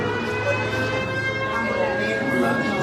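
A recorded air raid alert siren plays as a steady wailing tone, continuous and fairly loud throughout, with faint voices murmuring underneath.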